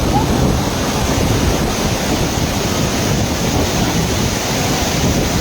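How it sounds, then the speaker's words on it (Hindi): A tall waterfall plunging roughly 400 to 500 feet among mountains sends up a loud, steady, broadband roar that stays constant and close throughout, with no pauses and no speech. "ज़बरदस्त पानी का शोर है।"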